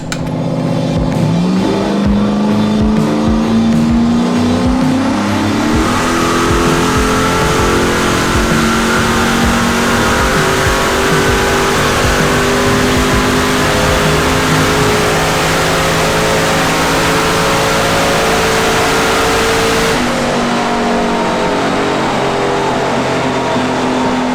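A turbocharged LS-powered Foxbody car on a dyno, its engine climbing steadily in pitch through a long, loud wide-open pull, then dropping off abruptly near the end, with no talking.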